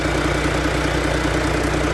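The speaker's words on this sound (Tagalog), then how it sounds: "So ito yung makina niya. Meron itong 180 PS." Isuzu Forward dump truck's 180 PS inline six-cylinder diesel with inline injection pump idles close up under a tilted cab, a steady low rumble with an even mechanical clatter and no talking.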